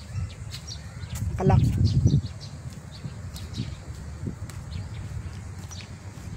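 Small birds chirp intermittently in the distance at a wildlife park in Quezon City, scattered high tweets over a low outdoor rumble, with a brief spoken word early on.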